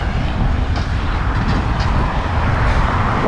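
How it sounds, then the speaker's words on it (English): Road traffic near the top of a hill, a continuous broad rumble and rush of passing cars, loud and close, with no voices. "Lots of cars."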